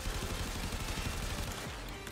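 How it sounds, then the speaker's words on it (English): Rapid rocket explosions from an Acceltra in the video game Warframe, a dense, continuous barrage of booming bursts that stays loud throughout and eases slightly toward the end. "The explosions"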